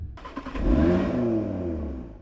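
Audi R8 V10 engine on a 2021 car, revving sharply from idle into a sustained rising roar, loud and close, with no talk.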